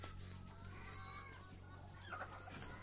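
Chickens and chicks cluck and peep faintly on a farm, soft scattered calls over a steady low hum of background noise.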